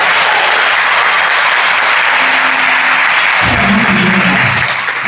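An audience in a church theatre gives a sustained round of applause, dense steady clapping filling the space, with a faint voice joining near the end.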